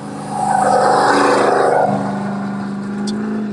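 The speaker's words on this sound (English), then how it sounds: "we got more 6100s going by on the left and more coming by on the right in the pit" Class 6100 off-road race trucks pass through the pit in a loud, close engine roar that swells, then eases into a steady rumble as they go by.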